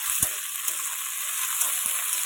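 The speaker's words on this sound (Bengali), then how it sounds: "আগে এই সবজিগুলো একটু ভেজে নিই হালকা করে" Mixed vegetables (potato, beans, cauliflower, onion) lightly frying in a pan for chowmein, a steady close hiss with a few faint knocks of stirring, no talk.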